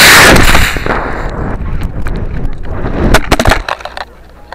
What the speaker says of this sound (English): So we are going to launch Keith's rocket, the Aerobee 170 and the H-180.